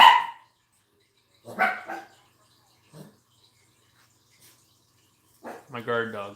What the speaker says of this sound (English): My guard dog.